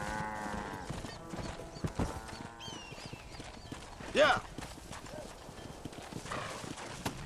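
Horse hooves clip-clop at a gallop in the video game Red Dead Redemption, with music and a shouted cheer over them, plus a brief sharp burst midway.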